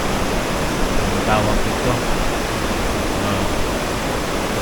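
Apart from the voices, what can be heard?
rushing water at Hapid irrigation system, Ifugao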